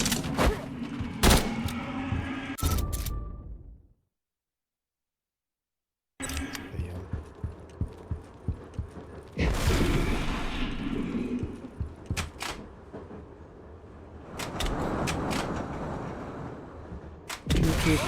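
Video game gunfire in Ground Zero, a Korean survival horror game with fixed camera angles: bursts of sharp shots and booming reports broken by a brief silence, some passages clustered rapidly, with occasional talk in between.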